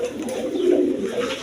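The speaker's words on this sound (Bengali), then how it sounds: "এইখানে এক পেয়ার কবুতর আছে, কালদম কবুতর, দোনোটাই কালদম" A pair of big black Kaldom pigeons coo close up, giving one soft, rolling coo that swells in the middle of the short stretch, heard alone.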